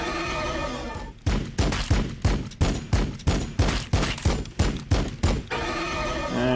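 Gunfire in Warhammer 40K: Battlesector, a rhythmic run of about a dozen loud, evenly spaced heavy shots over roughly four seconds, between stretches of steady game noise.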